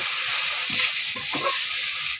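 Chopped onion and green chilies fry in hot oil with a loud, close hiss, accompanied by stirring scrapes and clacks before the sound cuts off abruptly.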